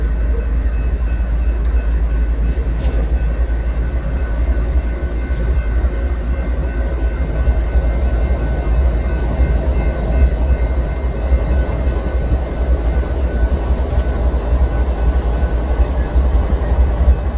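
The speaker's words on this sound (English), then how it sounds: "He stops for a second next to this other stacked train." A freight train in Birmingham rolls steadily past close by, with a loud continuous rumble and rail clatter throughout. No voices.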